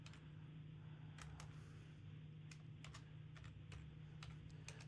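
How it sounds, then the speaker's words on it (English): A name is typed on a computer keyboard in faint, irregular bursts of light key clicks over a steady low hum, with no one speaking. "I'm typing her in."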